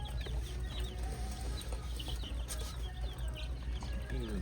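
Chickens clucking in a farm supply store, soft scattered clucks mixed into a steady, noisy indoor hum, faint and distant.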